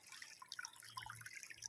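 Faint, scattered drips of spring water falling into a pond outdoors, soft irregular plinks at close range with no talking.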